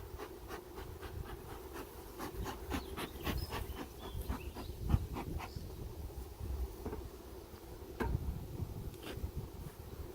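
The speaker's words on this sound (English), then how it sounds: "Now when I tip that up, there's just so many bees" Honeybees swarming out of an opened, crowded hive make a faint buzzing hum, with scattered clicks and knocks from the hive being handled.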